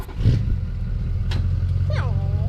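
A straight-piped four-wheeler with no muffler idles with a low, steady, rumbling engine drone, close and continuous, while a brief voice cuts in near the end.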